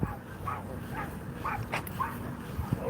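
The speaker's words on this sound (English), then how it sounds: "Ooh, that big dog here." A big dog whimpers and yips in an indoor room, a few faint, scattered vocal bursts over a low background hum.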